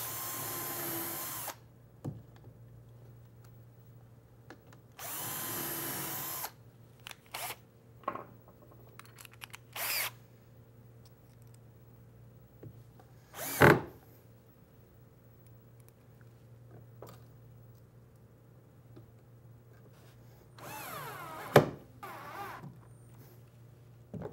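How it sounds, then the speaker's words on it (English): A power drill with a self-centering bit bores hinge holes in wood for a cabinet door: several short whirring bursts of a few seconds each, separated by quiet gaps and small handling clicks, close by with no talking. "I like to use a self-centering bit and drill my holes"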